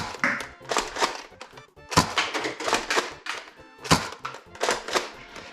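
A BuzzBee Arsenal foam dart blaster fires several separate shots, each a sharp close thunk at uneven intervals about a second apart, with quieter mechanical clicks between them and no talking.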